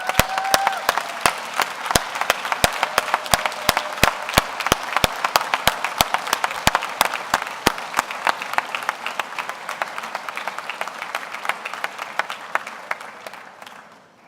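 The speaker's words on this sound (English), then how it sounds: "Would you please stand up so that we can see you and clap for you?" Commencement crowd at a K-State architecture ceremony applauds the graduates' families, steady clapping from a large hall that gradually tapers off, with no talk over it.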